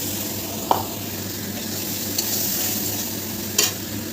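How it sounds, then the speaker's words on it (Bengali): Spice masala frying in a pan with ginger and garlic paste gives a steady, close hiss of sizzling oil, with a few sharp clicks of a spoon against the pan. "আদা বাটা দিলাম মশলাটা ভালো করে ভেজে নেব"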